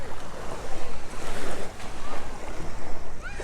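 Waves wash onto a beach beside a small pier in Alcudia, Mallorca, in a loud, continuous surging rush with heavy wind buffeting the microphone.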